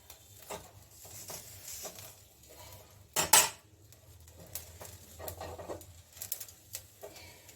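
Roasted chillies are turned over in a pan, making quiet, close scrapes and light metallic clinks with one sharp clatter midway, over a soft background hiss.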